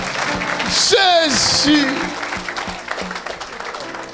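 A church congregation applauds in a burst of clapping, mixed with loud singing or shouted praise and a voice speaking over it.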